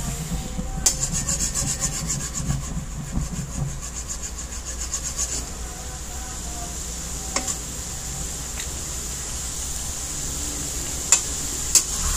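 Utensil stirring khao soi noodles with egg in a frying pan in a home kitchen cooking Thai-style fried noodles, a steady scraping, rubbing rhythm with a soft sizzle underneath and occasional sharp clinks near the end, no talk.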